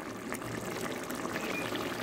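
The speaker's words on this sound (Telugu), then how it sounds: "నెక్స్ట్ కొంచెం వాటర్ కూడా యాడ్ చేస్తాను" Water is poured into a pot of mutton biryani, making a faint, steady, continuous pouring and bubbling sound with no one speaking.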